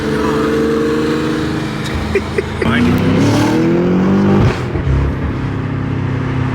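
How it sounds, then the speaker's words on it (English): A Mercedes engine roars loudly up close, with rising whining tones as the turbo spools while it revs and accelerates; a voice briefly exclaims over it. "You hear the turbo spool so much."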